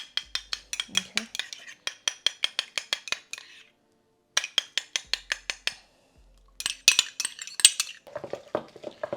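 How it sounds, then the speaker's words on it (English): A utensil beats éclair choux dough with eggs in a bowl, giving fast rhythmic bursts of sticky slaps and clinks, several seconds each, separated by short pauses. "And you just keep mixing until it starts to be very silky"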